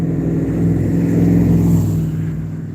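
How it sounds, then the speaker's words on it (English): A loud truck rumbles past nearby, giving a steady low, heavy engine drone that swells slightly and then eases off, with no speech over it. "There's a loud truck."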